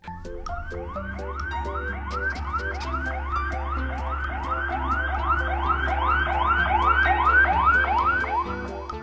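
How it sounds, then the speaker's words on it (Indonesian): An ambulance siren wails in steady repeating rising-and-falling sweeps as the speeding ambulance approaches, growing gradually louder over a low road rumble. "si perekam iseng merekam sebuah mobil ambulans yang hendak lewat di depannya"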